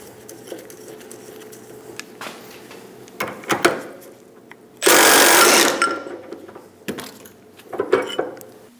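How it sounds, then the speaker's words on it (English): Pitman arm remover being fitted to the idler arm of a 2003-2025 Chevrolet Express 2500 van: scattered metallic clicks and clanks, then a loud burst of about a second, likely from a power tool, followed by more tapping. "We're going to install a pitman arm remover."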